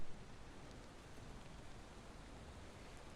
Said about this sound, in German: jetzt regnet es natürlich noch gut.